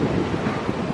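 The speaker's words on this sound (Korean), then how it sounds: "와, 파도가 부서지는." Ocean waves breaking on a beach in Da Nang, Vietnam, heard as a continuous rushing roar mixed with wind buffeting the microphone, fairly loud and without speech.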